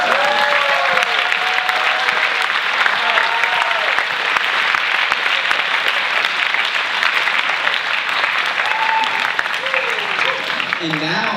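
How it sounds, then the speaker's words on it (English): An audience in a chapel gives a sustained round of applause, dense and loud clapping throughout, with a voice speaking over it near the start and end. "one more big round of applause to all those people"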